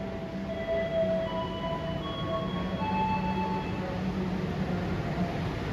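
Argo Anjasmoro passenger train rolling past at a station, a steady low rumble of wheels and cars with faint high metallic squeal tones drifting over it, fairly near and continuous throughout.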